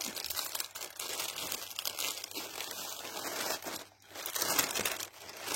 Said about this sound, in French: Alors, je vais ouvrir le colis.